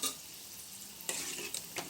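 Gulab jamun fry in oil on a medium gas flame under a soft, steady sizzle, while a spoon stirs them with a few brief scraping strokes near the pan, close up and quiet, with no talking.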